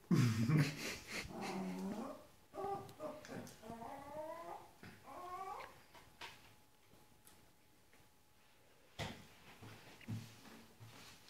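A dog whimpers and whines in a run of short, rising, wavering cries that trail off into quiet. A brief thump comes near the start and another near the end.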